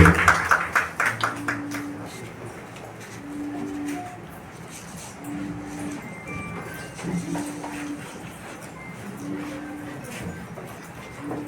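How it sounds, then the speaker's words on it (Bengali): Audience applause at an award ceremony, a burst of clapping at the start that fades into a quieter room with scattered tones and faint background murmur. "জোর করে হাততালি।"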